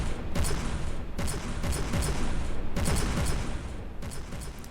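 Rapid, continuous fire of large-caliber shells in a vehicle combat video game, dense overlapping booms and thuds in a steady barrage with no pauses.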